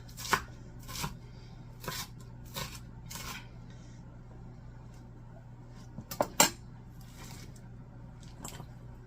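A knife chops shredded lettuce for chili nachos in sharp, irregular strokes on a cutting board, some single and some in quick bursts, close and clear over a quiet low hum.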